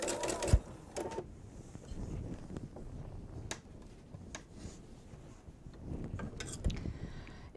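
A sewing machine stitches off the edge of a quilted kitchen-set binding, its motor running in short bursts and mechanical clatter at moderate volume, with a few sharp handling knocks between runs.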